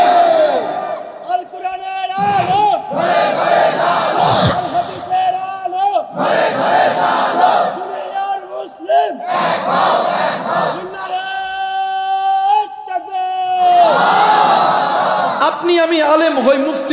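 A large religious gathering answers a takbir call with loud, massed rhythmic chanting in repeated waves, a lead voice calling between responses and the crowd's roar swelling and falling close and full throughout.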